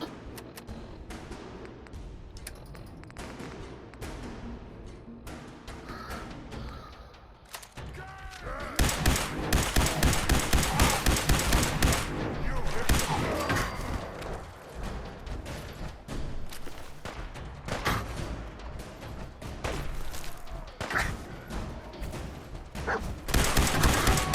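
Rapid bursts of gunfire from the video game Fallout 4, sparse at first and then dense and sustained, loud and close with continuous shooting. A voice talks over part of it.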